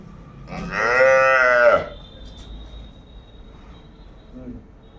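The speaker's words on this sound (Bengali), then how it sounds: "আমরা রয়েছি তোতা ডেইরি ফার্মে আমরা দেখছি আজকে আবারও একটু আকর্ষণীয় গাভী বাছুর সংগ্রহ করছে তোতা ভাই" A cow at a dairy farm in Dinajpur, Bangladesh, where milking cows and calves are kept, gives one loud, close, drawn-out moo lasting about a second, followed by quieter farm background.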